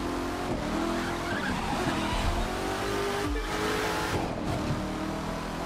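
A Corvette in The Crew 2 racing game roars through a race with loud, continuous engine noise and squealing, skidding tires, ending in a crash, with no talk.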